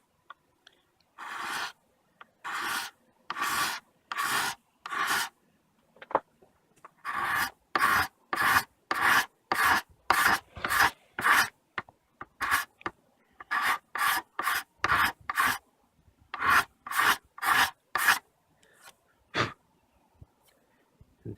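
A sharpened cabinet scraper pulls across wood in short, raspy strokes, coming in quick rhythmic bursts of three or four with brief pauses between sets. The sound is close and dry.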